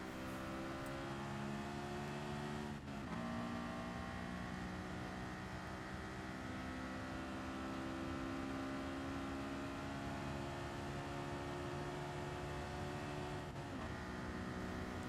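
Honda S2000 N200 road car in Gran Turismo Sport at Suzuka Circuit, its engine note rising steadily under acceleration, with one brief gear-change dip partway through and another near the end, loud and continuous with no talking.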